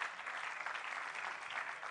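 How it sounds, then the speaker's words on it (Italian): A crowd applauds the departing mayor Cattaneo at a political gathering, with steady, dense clapping from a medium-distance audience running throughout without any voice on top. "un applauso per lui"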